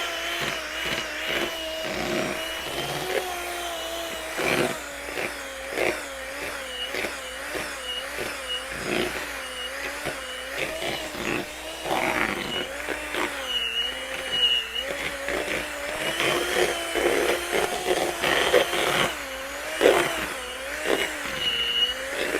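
An electric mixer beats thick peanut butter cookie dough, its motor whining close by and rising and falling in pitch as it strains and bogs down in the heavy mixture.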